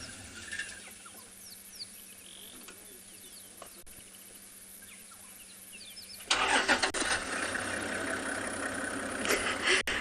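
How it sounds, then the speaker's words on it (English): A safari vehicle on a sunrise drive at Tswalu rumbles in partway through, its engine noise swelling abruptly and staying loud and close after a quieter stretch of birdsong and faint background sound. "Have another vehicle coming into sighting. If you hear the rumbles"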